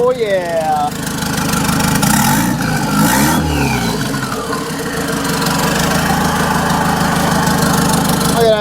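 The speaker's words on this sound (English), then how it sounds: "Look at that turbski just a spinning in there." A turbocharged engine in a 1998 Chevy Tracker (Suzuki Samurai type) runs steadily close by, a loud continuous drone with a rising and falling whine of the turbo spinning up midway, with a voice speaking briefly.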